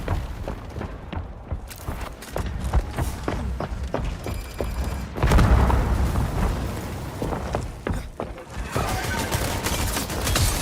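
Sustained video game gunfire crackles in dense, rapid bursts with heavy booms, continuing loud and nearly unbroken across the whole stretch amid chaotic battle noise.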